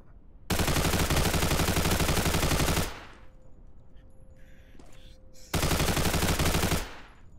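Automatic gunfire in a video game set in an American simulation: two long, loud bursts of rapid machine-gun fire, each lasting a couple of seconds, separated by a quieter pause.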